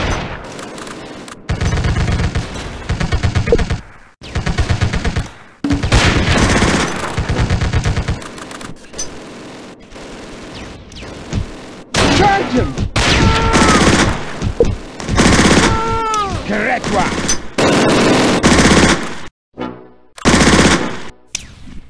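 Dense bursts of machine-gun and rifle fire in a Close Combat wargame battle, with repeated loud volleys separated by short silences and rattling automatic fire throughout.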